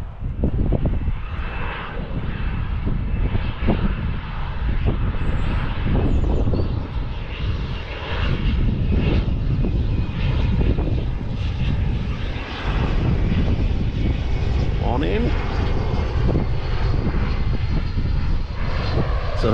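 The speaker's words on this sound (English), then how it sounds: "Oh, there's a plane coming in." Fixed-wing plane approaching to land at Newquay Airport, its engine drone loud, steady and close throughout with broadband wind rumble, no voices.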